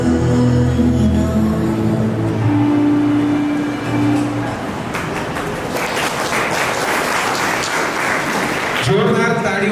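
Audience applause swells at a Dhodia community felicitation ceremony, rising out of fading music into a loud, sustained wash of clapping that lasts several seconds before a tonal sound returns at the end.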